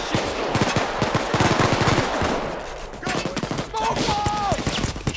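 Dense, rapid gunfire crackles throughout a Payday 2 heist, layered automatic bursts and single shots close and loud, with a few brief synthetic tones near the end.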